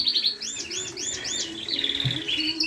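British mule and hybrid finches chirp and twitter inside an aviary, a quick series of bright repeated notes and soft calls over a low steady background, with no one speaking.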